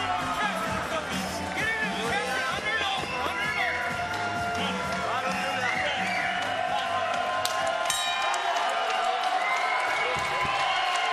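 At a women's MMA fight, the crowd cheers, whoops and claps between rounds, a continuous roar under a commentator's voice.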